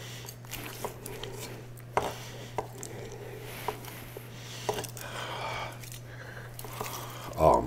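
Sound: chopping food with a Jikko bullnose knife

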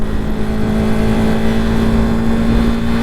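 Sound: motorcycle accelerating through quick gear shifts

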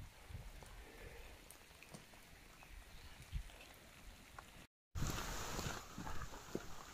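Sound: light rain falling outdoors

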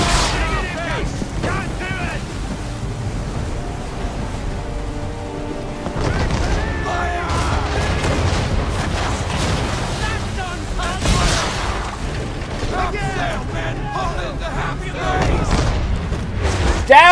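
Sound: ship cannon fire in Assassin's Creed 3 video game

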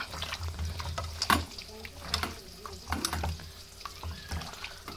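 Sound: stirring ginger and shallots frying in oil and ghee

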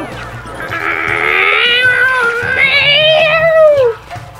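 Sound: cat meow from Super Mario 3D World video game

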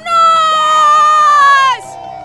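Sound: crowd cheering at mountain bike championships

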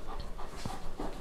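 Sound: Bernese Mountain Dog panting

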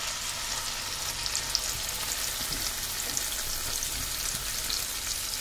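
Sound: grated ginger frying in tomato and onion gravy

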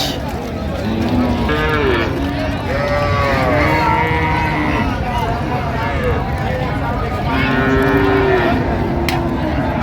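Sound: cattle mooing at Raniganj cattle market, Sahiwal bull calf

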